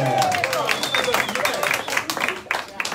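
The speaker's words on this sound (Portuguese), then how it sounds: "Uma salva de palmas para ele!" A crowd at a corridinho folk dance contest in Interlaken, Switzerland claps and cheers in a dense burst while voices sound over the applause.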